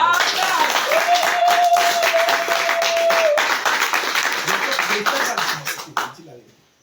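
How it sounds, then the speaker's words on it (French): A church congregation claps and applauds for the pastor, a dense and steady wash of hands that stays loud for several seconds before trailing off. A sustained tone sounds underneath, and a voice comes through the applause. "Acclamez pour le pasteur."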